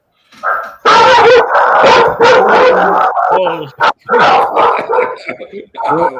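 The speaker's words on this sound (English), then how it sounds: "The dog doesn't agree." A dog barks loudly and close by in a rapid series of sharp barks and yips, with a few short whimpering notes between bursts.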